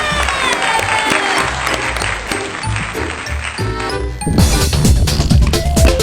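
Audience applause at a strange theatre show after a dance act, loud and sustained, with a burst of music and heavier clapping joining in near the end; no speech.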